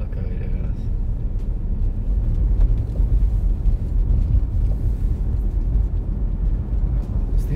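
A learner driver's car pulls out of a curve under gentle throttle, giving a steady, close low engine rumble with some road and wind noise and no clear gear change throughout.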